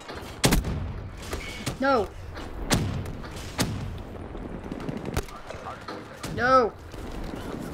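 Gunfire in Call of Duty: Black Ops 3 multiplayer, several sharp shots and short bursts at mid distance, with a person talking over the action.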